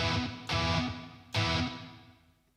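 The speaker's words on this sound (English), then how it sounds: "And we're going to add some reverb." Three strummed electric guitar chords played through an iOS guitar plug-in ring out with heavy reverb, each one struck hard and then left to fade into a long, washy tail.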